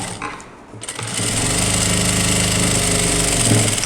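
A sewing machine stitches a newborn baby's skirt for a photo-shoot dress, a loud, steady mechanical whirring hum that starts after a brief quieter moment and runs continuously.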